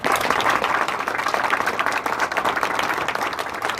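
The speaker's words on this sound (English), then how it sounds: "Let's give you a big round of applause." A large audience at a Mardi Gras association event in Mobile, Alabama applauds loudly and steadily, a dense continuous wash of many hands clapping in a hall, with no voices standing out.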